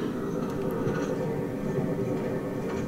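A Sound+Sleep machine playing a train recording: a steady, continuous rumbling rail noise with faint clicks, unchanging in level throughout.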